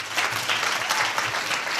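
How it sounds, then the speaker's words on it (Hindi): Audience applause for Sher Singh at a Hindi Bible teaching gathering, a steady, fairly loud patter of many hands clapping throughout the short span. "शेर सिंह के लिए ताली बजाओ"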